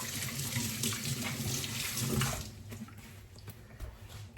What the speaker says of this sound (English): Let me just give my hand a quick rinse.